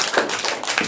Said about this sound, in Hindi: ज़ोरदार ताली बजाओ सौरभ के लिए।